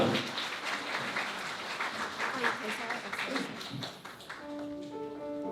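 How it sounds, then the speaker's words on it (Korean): Wedding guests applaud during a ceremony at a convention hall in Jamsil, Seoul, a moderate, scattered clapping with voices mixed in, fading as a steady musical tone rises at the end. "역시 우리 아버님을 박수로 모시도록 하겠습니다"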